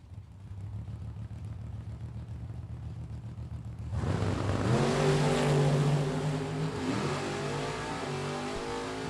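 A dragster and a Chevrolet Corvette launch down a drag strip at a racing event, engines idling low before erupting into a loud, rising roar of acceleration that sweeps upward and holds as the cars pull away.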